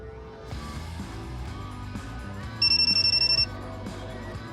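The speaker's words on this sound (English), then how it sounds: "multiple beeps like that is typically a good sign, meaning that the test was success" A TPMS programming tool beeps after a successful tire pressure sensor test, a quick run of about eight sharp high electronic beeps, clear and close over low background noise.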